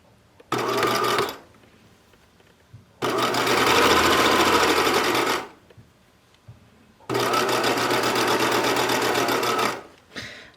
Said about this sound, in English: So the first thing I'm going to do is sew it on as usual, just for the first side. So just machining it on.